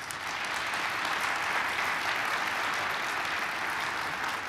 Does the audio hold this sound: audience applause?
yes